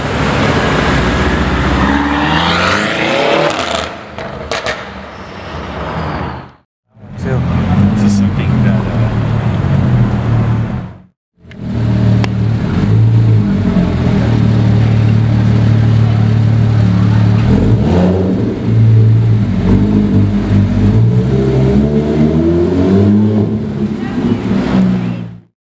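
A straight-piped Ferrari 458 roars loudly as it pulls away and revs hard, with rising and falling engine notes and two brief drops in level, while people talk and shout nearby over the exhaust.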